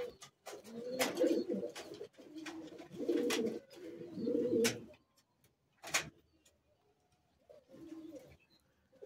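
Old-bloodline Madrasi pigeons coo in repeated low, throaty bursts at close range, with pauses between phrases and fainter cooing near the end.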